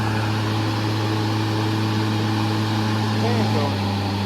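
Blades spinning on high on a new electric 42-inch Bad Boy E-Series zero-turn mower, a steady fan-like whir with a low, even hum, while someone talks over it.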